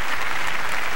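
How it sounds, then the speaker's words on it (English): Crowd applause from the RealFlight G2 RC flight simulator game after a ducted-fan F-16 landing, a dense continuous wash of clapping at steady volume, brief and alone. "Everybody clapping?"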